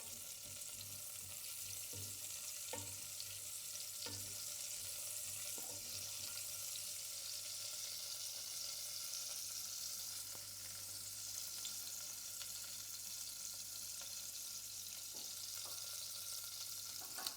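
Food fries steadily in hot oil with a constant close sizzle, broken by occasional light scrapes and taps as it is stirred and broken apart in the pan, while cooking Italian stuffed pasta shells.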